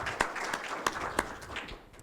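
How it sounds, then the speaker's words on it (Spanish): Applause for a panel speaker at an electoral justice congress in Mexico: a brief, moderate round of clapping with a few sharper claps standing out. "Un fuerte aplauso."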